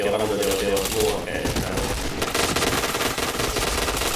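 Rapid bursts of automatic gunfire crackle through a Point Blank match, dense and continuous, with voices talking over the shooting.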